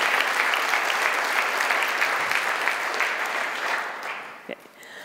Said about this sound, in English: I want a big applause for him